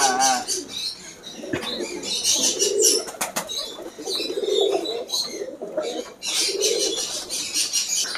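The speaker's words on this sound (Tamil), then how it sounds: "ரேஸ் புறாவும் இருக்குது" Racing pigeons at a large bird farm coo in repeated soft, throaty phrases close by, mixed with chirps from other birds and a brief flutter of wings.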